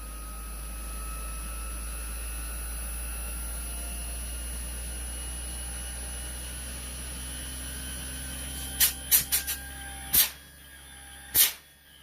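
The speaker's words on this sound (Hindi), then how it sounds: "इसका कंप्रेसर ऑन हो गया है" A Gree DC inverter air conditioner compressor runs with a steady low hum and a faint whine as its RPM slowly climbs, and a few sharp clicks break in near the end.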